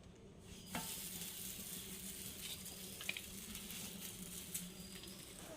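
Food frying in oil on a banana leaf, a steady close sizzle with soft crackles and a few light taps of utensils throughout, no talking.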